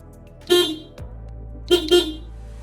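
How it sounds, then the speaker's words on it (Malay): Horn of a Toyota GT86 sounding after the battery is reconnected: one short honk, then a pause, then two quick honks close together, loud and near, over a low steady hum. "tengok horn dia berfungsi ke tidak"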